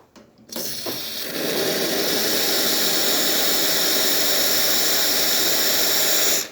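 Hot water flows from an ECM Technika IV espresso machine after a service, a steady loud hiss with broadband rushing that starts after a brief clunk and holds evenly to the end.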